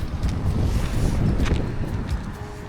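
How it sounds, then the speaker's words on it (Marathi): Strong wind on the trek up Raigad Fort from Pachad village buffets the microphone in low, continuous rumbling gusts, with no one speaking. "बेकार वारा सुटला आहे"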